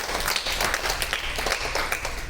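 A church congregation gives a steady round of welcoming applause during a Sunday worship service, with many hands clapping together in an even, dense patter.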